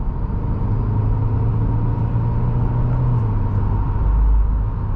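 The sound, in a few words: car downshifting with moderate acceleration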